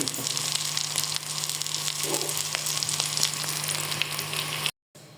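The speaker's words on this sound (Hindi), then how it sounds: "अभी हम इन्हें सूख रंग का करेंगे और अच्छे से पका के फ्राई करके निकाल लेंगे।" Potato cutlets (aloo kabab) frying in hot oil give a steady, dense sizzle that holds evenly for about four and a half seconds before cutting off abruptly, with no voices present.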